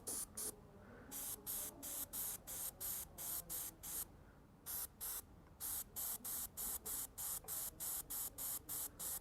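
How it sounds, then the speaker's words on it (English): An airbrush sprays paint onto scale models in a rapid series of short hissing bursts, regular on-off pulses of airy spray close by, with a couple of longer pauses and no speech. "with the airbrush you can cover quite large areas as well"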